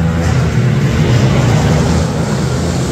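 A mini Honda ATC70 three-wheeler races at an indoor motocross track while its rider pulls a wheelie, the small engine giving a loud, steady, unbroken roar with no voices over it.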